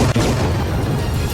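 Bombs dropped by fighter jets explode during a South Korea–US military drill, a loud sustained booming rumble with one sharp thud near the start, heavy and continuous.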